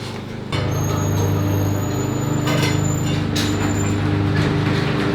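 A Dodge Charger with a newly fitted 3.73 limited slip differential revs up as its wheels spin, a loud, steady engine drone holding close by for several seconds, with faint high tones above it.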